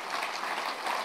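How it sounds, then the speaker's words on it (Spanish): A church congregation at a pastors' study meeting claps briefly, a soft, short burst of applause that sounds somewhat distant. "Dele un aplauso al Rey bendito"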